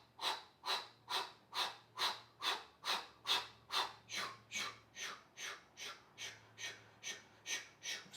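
Forceful rhythmic breathing during a home yoga core exercise, a steady run of about seventeen sharp, pumping breaths, close and loud with no talking.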